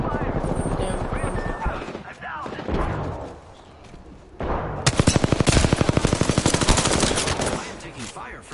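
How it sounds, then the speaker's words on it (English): Rapid machine-gun fire in the Apex Legends shooter, a loud sustained burst of evenly spaced shots in the second half, preceded by scattered firing and game noise with a voice briefly present. "I am taking fire, friends."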